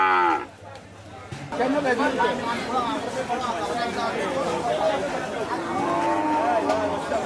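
Livestock at a weekly Monday cattle market in Savè, Benin, with cattle, sheep and goats; a steady crowd babble of people talking fills the scene, with animal calls mixed into the busy, continuous hubbub after a quieter start.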